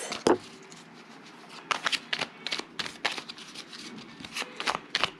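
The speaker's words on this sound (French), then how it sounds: "Je bats les cartes." Tarot cards being shuffled by hand in a series of short riffling bursts, moderately close and fairly quiet, with no talking over them.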